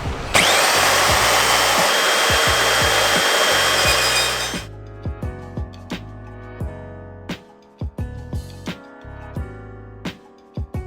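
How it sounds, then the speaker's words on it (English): A metal-cutting band saw working through a solid aluminium bar 32 mm thick and 60 mm wide, a loud sustained grinding whir for about four seconds that cuts off, followed by scattered clanks and knocks of handling. "Let's try and cut this solid piece of aluminium, 32 mil thick and 60 mil wide."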